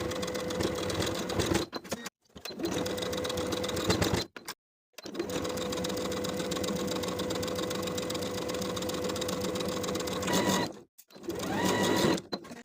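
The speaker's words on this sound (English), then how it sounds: "I'm going to sew close to the upper inner edge of the facing all the way across the bottom of the skirt" Sewing machine stitching along the facing at the hem of a shirtdress skirt, a steady rapid whirring chatter in several long runs separated by brief pauses, close and without voices.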